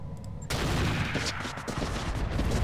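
Autocannon fire in the Roguetech mech combat game, a dense loud rattling volley that starts abruptly and keeps going without a break.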